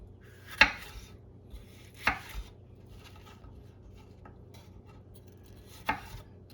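A knife chops food on a cutting board for chakchouka: three crisp, separated knocks spaced a few seconds apart, close and fairly quiet against a low room hum.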